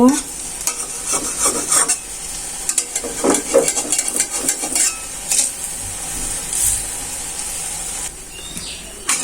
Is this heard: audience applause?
no